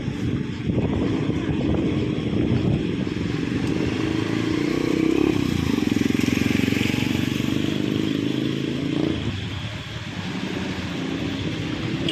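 A motorcycle engine rumbles steadily close by on a high-tide flooded street, with low chugging, some clattering and wind buffeting, and a brief dip in the engine note near the end.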